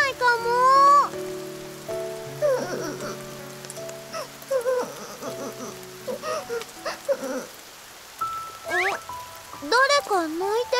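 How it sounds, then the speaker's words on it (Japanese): Soft rain patters steadily in the video game Princess Connect Re:Dive, a faint wash beneath bright melodic music and game chimes. "わあ、また雨か。"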